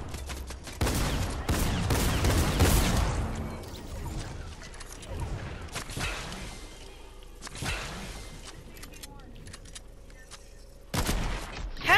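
A sniper rifle fires a no-scope shot in Fortnite, one loud sharp blast near the start followed by a long decaying tail, with a few more shot-like bursts later amid game noise.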